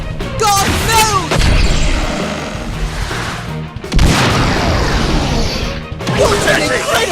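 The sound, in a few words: powerful soccer shot special move in Inazuma Eleven Strikers video game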